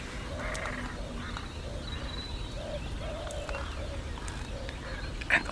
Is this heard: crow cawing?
yes